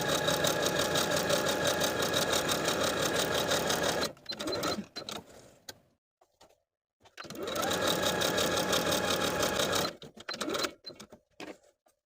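A sewing machine runs basting stitches along the seam of a ruffled top's fabric in two steady bursts of about four seconds each, separated by quiet handling noises and brief pauses.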